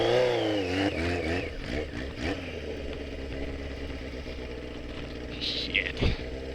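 A Mini Tenere 700 project motorcycle with its exhaust just fallen off, the engine revving loud and raw, rising and falling in pitch before settling into a rough idle; a voice briefly talks over it.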